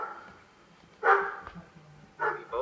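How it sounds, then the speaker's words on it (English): A Maltese barks loudly at a sliding glass door that leads to a backyard. There are two sharp, close bark bursts a second apart and a softer yip at the end, against a quiet indoor background. "the sound of my Maltese, Sammy, barking loudly at the sliding glass door which led to my backyard"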